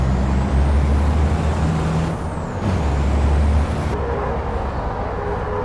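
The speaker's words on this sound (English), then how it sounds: "I think we're far too much on the brakes." A heavy racing truck brakes hard in the FIA European Truck Racing game, a loud hissing air-brake burst over a steady engine drone, with no talking.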